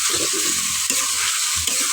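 Turmeric-soaked cauliflower fries in a pan of hot spices, a steady sizzle broken by several close scraping stirs of a spoon through the florets.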